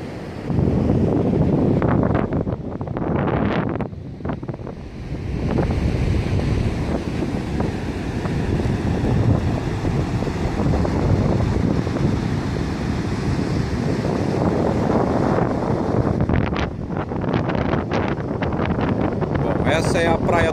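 Strong wind buffets the microphone with a continuous roar as waves wash on Praia do Sol, a deserted beach, loud throughout with surf swells rising and falling.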